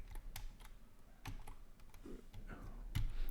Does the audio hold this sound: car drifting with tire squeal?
no